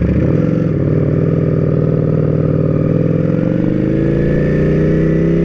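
A Ducati Panigale sport motorcycle engine runs loud and close with a steady, throbbing rumble that rises slightly in pitch, heard alone without any talk.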